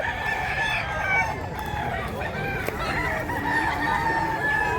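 Many chickens and roosters at an early-morning poultry market crow and cluck over one another, a dense, continuous chorus from both near and far birds.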